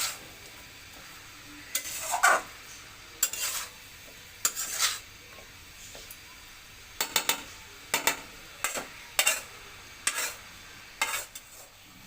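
Taro stolons being stirred with lemon juice in a pan, a utensil scraping and clinking against the metal in a dozen or so irregular bursts, close and fairly loud, with quiet gaps between strokes and no talking.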